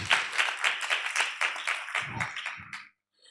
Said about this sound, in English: I request everyone to clap for this training that we went to